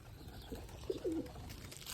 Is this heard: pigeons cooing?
yes